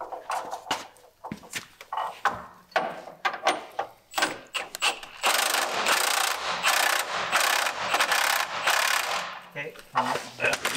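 A ratchet torquing a nut while a 3406 CAT engine and 13-speed transmission are installed in a K100 cabover truck, with rapid clicking strokes in bursts followed by a long, steady run of ratcheting, close and loud.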